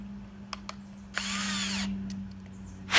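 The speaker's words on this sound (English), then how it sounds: "I've got myself a little skinny drill bit." A small, skinny drill bit whirs into a Hot Wheels Ford GT toy car: faint clicks, then a steady high drilling whine lasting under a second, followed by a short sharp knock near the end.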